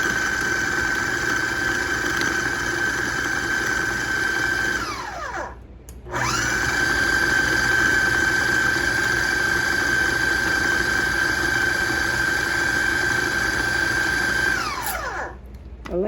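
A loud food processor pulsing butter into flour for pie crust whirs steadily in two long bursts, with a brief pause between them and a high mechanical whine over the motor.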